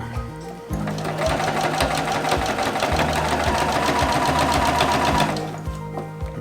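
A Juki sewing machine stitches the back seam of a baker boy cap, running as one loud, rapid, even mechanical chatter for several seconds, with a brief pause before it starts and a short stop at the end.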